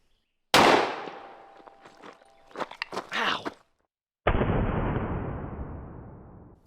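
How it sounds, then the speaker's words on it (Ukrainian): A very short shotgun with a 15-inch barrel fires a shot shell outdoors, a loud, sharp blast that decays quickly, followed by rustling handling noise and then a long broadband rush. "Гаразд, подивимось, що станеться, коли ми вистрелимо з цієї штуки. Переходимо знову на дробовий набій з 15-дюймового ствола"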